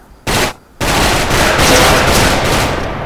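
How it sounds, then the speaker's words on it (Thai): Rapid automatic G36C rifle fire in a video game (Special Force) in loud bursts: a short burst, a brief pause, then a longer sustained volley, close and harsh. "ฟังแค่เสียงปืนก็รู้แล้ว"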